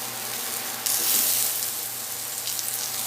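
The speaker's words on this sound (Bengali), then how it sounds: "পেঁয়াজ টমেটো একটু নরম করে ভেজে নেব" Chopped onion and half a tomato fry softly in a pan over low gas, a quiet steady sizzle with a brief louder hiss as something is added, carrying on alone.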